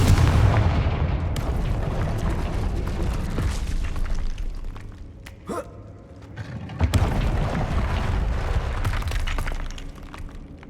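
A Confringo fire spell blasting in the Hogwarts Legacy video game: heavy booming bursts with crackling debris and a whooshing impact, loud and close, then another rumbling blast later on.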